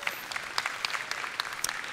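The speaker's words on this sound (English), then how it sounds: "Please clap, Jeb Bush." Applause from an audience at a data science conference talk, a brief, fairly even patter of many hands clapping with a few sharper individual claps standing out.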